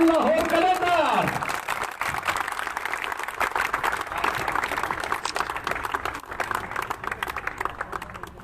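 A crowd at a cricket match prize ceremony between Peshawar Nangyali and Mardan Baryali claps steadily for several seconds, a dense wash of applause following a short burst of amplified announcement.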